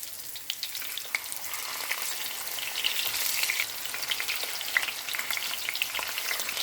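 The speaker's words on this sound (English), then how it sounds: "In a heated pan with vegetable oil, fry the tofu." Tofu sizzles and crackles as it fries in a heated pan of vegetable oil, a steady close hiss with scattered pops running throughout, no voices.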